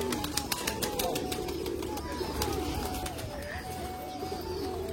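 Many pigeons coo on a house rooftop, a steady murmur of overlapping low calls running throughout, with occasional wing flutters and sharp clicks above a dense flock noise.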